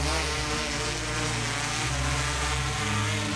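A drone flies in at an outdoor birthday event for a political party, giving a steady, loud whirring propeller drone with a low engine-like hum that holds throughout without talk.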